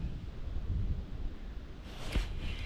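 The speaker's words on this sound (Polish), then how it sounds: "ale ten wiatr to taki troszkę nieprzyjemny" Soft wind rushing over the microphone in gentle low gusts on open water during fishing, with a brief brighter rustle near the end; no one speaks.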